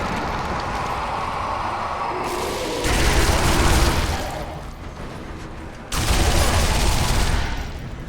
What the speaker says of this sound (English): the weapon I'm using right now, the PPSH, is actually a Russian submachine gun